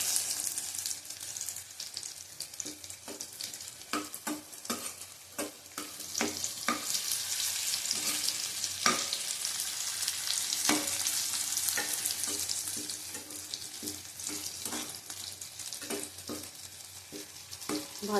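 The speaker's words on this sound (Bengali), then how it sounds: "শুকনো লঙ্কা 4টে দেবো। ভালো করে ভেজে নেবো ফোড়নটা।" Four dried red chillies frying in hot oil as a tempering, a steady close sizzle running throughout with frequent sharp crackles and pops from stirring, and no voices.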